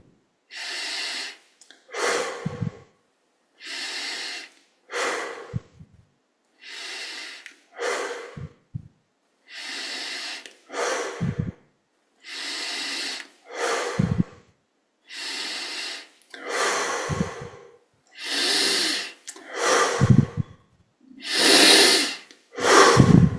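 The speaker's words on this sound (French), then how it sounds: "on prend 20 grandes respirations ici" Deep, forceful yoga breaths, about a dozen inhale and exhale cycles in a steady rhythm, close and loud with short pauses between them and growing stronger toward the end; no talking.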